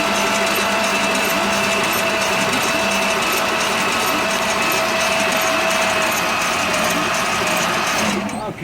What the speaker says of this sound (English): Now we're running the third test for the fuel pump, mainly to fix this leak.